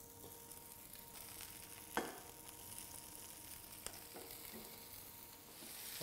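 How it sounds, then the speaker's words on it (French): A frying pan with a little fat heating up, giving a soft steady sizzle with an occasional sharp tap or clink, fairly quiet and with no voices. "Je fais chauffer une poêle avec un petit peu de matière grasse."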